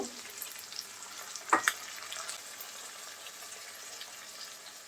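Water poured into ginger-garlic paste frying in a pan for a beef tripe bhuna, setting off a sharp burst of hissing sizzle that quickly settles into a soft, steady frying crackle.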